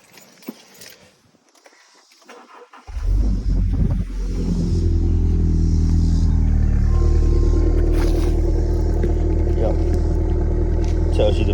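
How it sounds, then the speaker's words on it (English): A Subaru Forester engine starts abruptly from near silence and settles into a steady, loud idle rumble close by, continuing without a break. "See if I turn the car on."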